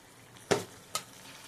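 A potato, pointed gourd and drumstick curry with sugar is stirred in a pan, giving two short scraping clinks of a spoon against the pan about half a second apart, close and soft over faint background hiss, with no talk.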